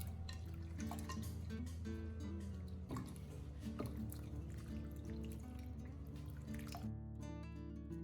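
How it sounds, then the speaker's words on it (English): Rinsed shrimp drain, water trickling and dripping in short splashes, faint and close, with scattered soft taps and pours before it goes quiet. "rinse the shrimp again with fresh water, and drain well."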